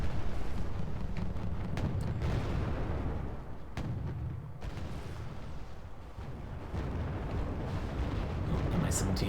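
Video game battle with a Mi-17 helicopter attacking units, heavy rumbling explosions and booming blasts rolling continuously under loud combat noise, with a few sharper cracks mixed in.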